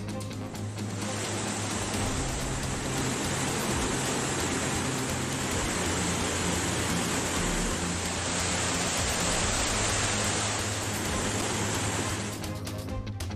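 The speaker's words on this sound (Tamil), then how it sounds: "நீர்பிடிப்பு பகுதிகளில் தொடரும் மழையால் கும்பக்கரை அருவியில் ஆர்ப்பரிக்கும் வெள்ளம்." Floodwater roars down Kumbakkarai waterfall after heavy rain in the catchment area, a loud, dense, unbroken rush of falling water that holds steady throughout.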